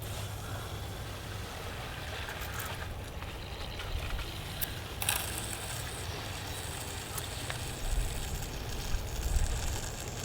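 A garden hose, connected at an outdoor spigot, runs water through a Watex vertical garden, giving a steady, continuous rushing hiss with a few faint knocks and small shifts in level.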